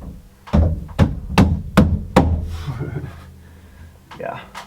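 A hammer strikes a fitting into place in an off-grid cabin wet bath, five firm, evenly spaced knocks close by, then a softer rattle and a quieter tap at the end.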